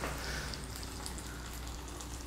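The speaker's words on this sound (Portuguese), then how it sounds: "O alho está cozinhando." Garlic frying in butter in a pan, a steady, soft sizzle with fine crackling pops, quiet and continuous throughout.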